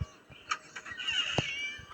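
A cat in the horror game Scary Teacher 3D lets out several short, high meows, spaced and close, over a quiet game background with no talking.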